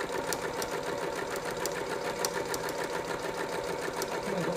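Sewing machine running steadily while stitching a pocket hem, a continuous close mechanical whir with rapid needle chatter and faint periodic clicks throughout, no voices.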